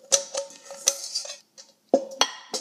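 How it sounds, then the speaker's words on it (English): Peaches tumble into a baking dish in a home kitchen: several distinct clinks and knocks against the dish, spaced irregularly with short quiet gaps, close and clear with no talking. "I'm going to put all my peaches into a baking dish."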